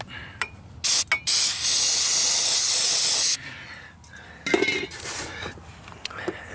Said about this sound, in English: Wish me luck on starting fluid, and let's dose the intake a little bit.